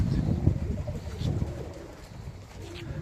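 Young pigeons, a cross of a Tippler and a Mikołajewski pigeon, coo low and soft on a rooftop, repeated throaty calls at close range with faint background noise.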